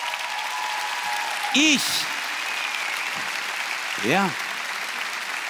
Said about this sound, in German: Der Applaus ist berechtigt.